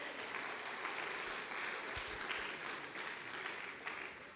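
A church congregation at a couples' service applauds in a steady, moderately loud burst of clapping that lasts the whole stretch, with no speech over it.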